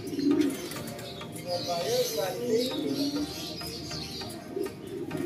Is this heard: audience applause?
no